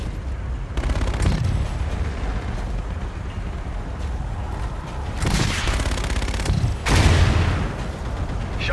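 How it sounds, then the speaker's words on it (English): Gunfire from the video game Call of Duty: Infinite Warfare in an air-support mission, with bursts of loud rapid shots and booming blasts, the heaviest around the middle and end, over a steady rumbling engine-like drone. "Shots out, shots out."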